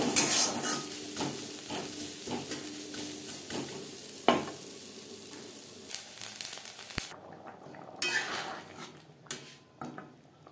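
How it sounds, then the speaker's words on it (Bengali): Grated coconut frying with turmeric and salt in a pan for chana dal, a steady close sizzle with scraping stirs and occasional utensil knocks against the pan throughout. "হলুদ আর লবণ দিয়ে নারকেল ভেজে নেব।"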